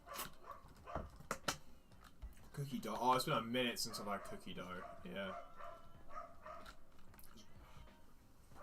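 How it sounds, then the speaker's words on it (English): A loud dog barks in sharp bursts near the start, then more barking mixes with chatter while people talk over it. "How loud is that dog, bro?"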